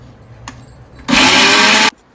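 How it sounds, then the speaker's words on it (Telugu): A mixer grinder whirs through a spice paste with onions for Kadapa-style dosa karam, a loud steady motor roar lasting under a second between brief quiet moments. "ఇట్లా డ్రై ఐటమ్స్ అన్నీ పౌడర్ చేసుకున్నాక లాస్ట్లో ఆనియన్స్ యాడ్ చేసి మళ్ళీ మిక్సీ పట్టుకోవాలి."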